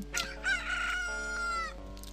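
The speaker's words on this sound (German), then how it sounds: "Kikeriki." A rooster crows at dawn in The Legend of Zelda: Majora's Mask, one long, clear, rising-and-falling cock-a-doodle-doo that stands alone in the foreground.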